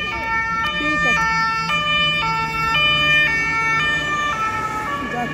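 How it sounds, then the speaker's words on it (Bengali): A police car siren wails in repeating up-and-down tones as it passes near a bridge, holding fairly loud and steady over faint road traffic. "যাচ্ছে পুলিশের গাড়ি,"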